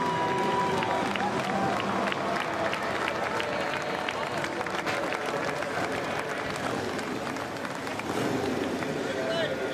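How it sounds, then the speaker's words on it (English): Fans applaud and cheer inside U.S. Bank Stadium after an X Games Harley-Davidson Hooligan motorcycle race, a steady, loud wash of clapping and crowd noise with mixed voices throughout. "getting a round of applause from the fans here inside the U.S. Bank Stadium"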